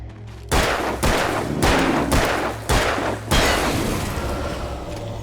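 Five heavy gunshots from the player's gun in the video game Alan Wake, spaced roughly a second apart and booming loud and close, each leaving a long echoing tail that carries into the next.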